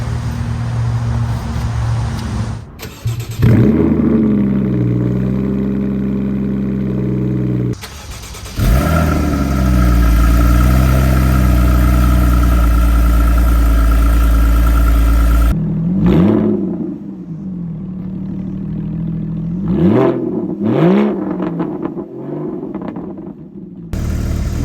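Porsche Cayman 981 with stock exhaust starting up, then idling and revving repeatedly; loud, close engine with rising and falling pitch sweeps and pauses between bursts, no talking.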